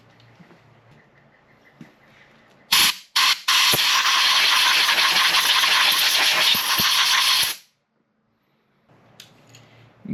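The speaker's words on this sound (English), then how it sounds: "taking some compressed air and just blowing all the junk out of there" A loud steady blast of compressed air blowing debris out of the spark plug hole on a Honda 400EX engine, with a couple of short bursts first, then a long continuous hiss that cuts off abruptly.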